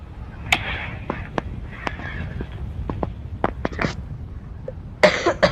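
Several short, sharp coughs from a hoarse man scattered through the stretch, close and fairly loud, with a burst of denser coughing near the end over low background noise.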